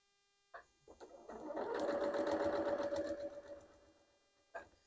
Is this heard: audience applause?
no